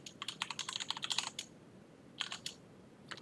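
Quick keystrokes on a computer keyboard come in a rapid burst of clicks, then a pause, then a few more taps, soft and close.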